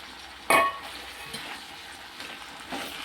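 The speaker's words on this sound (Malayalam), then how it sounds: "ഈ സമയത്ത് അരിഞ്ഞു വെച്ചിരിക്കുന്ന തക്കാളി ഇട്ട് കൊടുക്കാം" Chopped tomatoes drop into a hot pan where wilted yam is frying for chena theeyal, a Kerala curry. A sudden close hiss and clatter is followed by a steady sizzle, with no talking.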